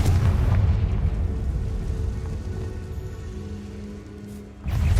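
Magic spell blasts from Hogwarts Legacy on PS5, the Bombarda and Confringo spells, heard as a dense, rumbling explosive roar that slowly fades, followed by a fresh burst at the end.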